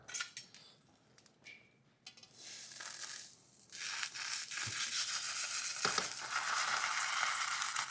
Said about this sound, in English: That's the omelet. Let's fold it over.